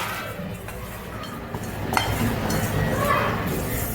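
Roasted peanuts are poured into a winnowing basket, making a continuous dry rattle sprinkled with sharp clinks, moderately loud and close.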